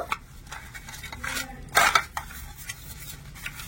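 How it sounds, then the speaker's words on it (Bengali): Oil being spread around the inside of a square metal cake mould for a homemade cake, heard as close scraping and clinking against the metal with a louder burst of rubbing midway, no talking. "তেলটা দিয়ে চারদিকে একটু ভালো করে লাগিয়ে নেব।"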